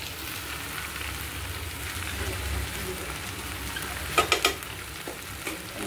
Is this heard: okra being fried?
yes